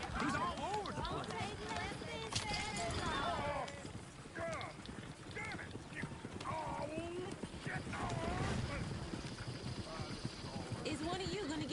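Horse hooves clip-clop steadily on a road in a PS4 western game, passing near and loud beneath almost continuous talking and game chatter, with a brief neigh amid the clatter.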